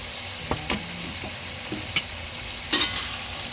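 Eggplant sautéing in a pan for ginisang monggo, a soft steady sizzle underneath with a few sharp scrapes and clinks of a spatula stirring against the pan, close and fairly quiet, with no talking.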